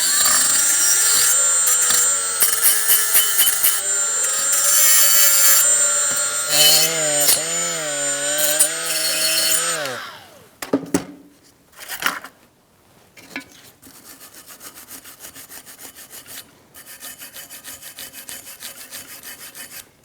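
A wire brush cleans a front brake caliper bracket from a 2004-2009 Mazda 3, starting with a loud whining, pitch-shifting grind for about ten seconds, then fading into quieter, intermittent scraping and rubbing.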